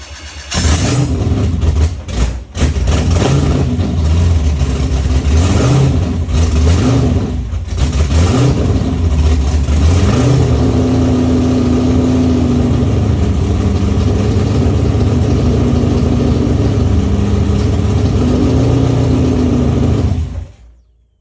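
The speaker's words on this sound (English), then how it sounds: "The car is ready to get started." A C5/C6 Corvette V8 starts, then revs in several throaty bursts before settling into a loud, lumpy idle that runs steadily close by until it cuts off at the end.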